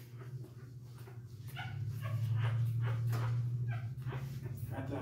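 Seven-day-old puppies whimper and whine in a steady chorus of thin, high cries, with a low hum running underneath throughout.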